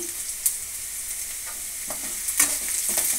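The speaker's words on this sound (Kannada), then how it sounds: "ಚೆನ್ನಾಗಿ ಫ್ರೈ ಆಗಿದೆ ಈರುಳ್ಳಿ ನೋಡಿ ಈ ರೀತಿ ಈರುಳ್ಳಿ ಫ್ರೈ ಆಗಿದೆ" Onions and curry leaves fry in a pan for tomato rice, giving a steady close sizzle with a few louder crackles and the scrape of stirring.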